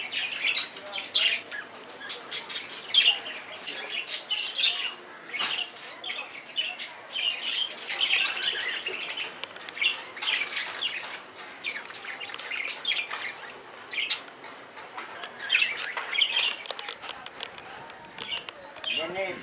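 Birds on a rooftop in an Indian slum chirp and squawk continuously, with dense overlapping calls, shrill squawks and occasional wing flutters, fairly close and lively throughout.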